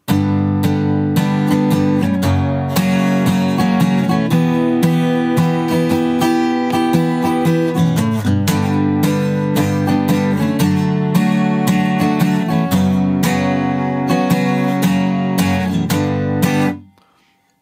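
Guitar plays the bridge line of a song, a steady rhythmic strummed chord pattern with crisp repeated attacks, loud and close, continuing for a long stretch before stopping abruptly.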